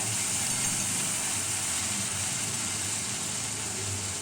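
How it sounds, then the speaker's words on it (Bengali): Dried red chilli paste frying in a pan over a low gas flame while cooking mustard hilsa, giving a continuous soft hiss and crackle at a steady level. "শুকনো লঙ্কা বাটাটা হালকা করে একটু কষিয়ে নেব"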